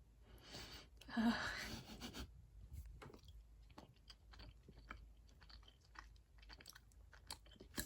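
Close, quiet chewing of sharp Cabot Creamery cheddar cheese, a brief louder bite and rustle at first, then soft, irregular wet mouth sounds and small crunches, with no speech.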